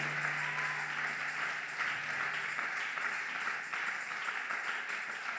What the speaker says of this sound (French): Acclamez le Seigneur pour cela. Acclame bien fort le Seigneur.